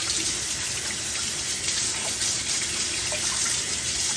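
Tap water runs steadily from a faucet into a sink while fresh ginger root is scrubbed clean with a sponge, a continuous close hiss and splash with no talking.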